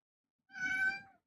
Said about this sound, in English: one of them is meowing right now.